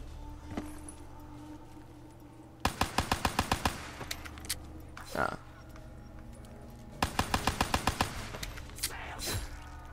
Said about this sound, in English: We're gonna start with the pistols, which is the LCAR 9, the RK5, and MR6.